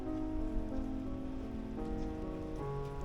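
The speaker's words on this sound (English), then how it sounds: "It's a shame it rained today" Steady rain patters on a wet street in South Kensington, London, with a continuous close hiss, while sustained tonal sound from a nearby source runs underneath throughout.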